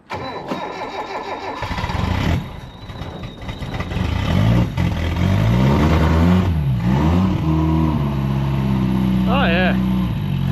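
A Ford Fairlane engine cranks, catches after a jump pack boost and revs unevenly at close range, rising and falling in pitch, with a voice talking over the running engine.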